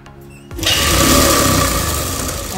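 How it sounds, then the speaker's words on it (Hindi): A sewing machine starts up and runs a continuous whirring stitch along a seam in palazzo fabric, loud and close after a brief quiet start. "अब मैं आपको सेकंड सिलाई लगाना बताऊंगी।"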